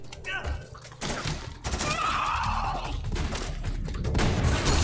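Rapid bursts of gunfire crackle and thud in a dense volley, loud and continuous, with a voice briefly heard amid the shooting, in the video game Metal Gear Solid 4.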